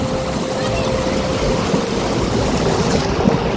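Dhauli Ganga, a glacier-fed Himalayan river in the Darma Valley beneath the Panchachuli peaks, rushes as a steady, loud broadband roar with no pauses, its churning water filling the whole clip.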